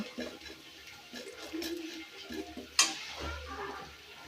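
A metal lid clanks once onto a cooking pot of beef trotters in a village kitchen, a short bright clink amid quiet rustling and faint kitchen noise.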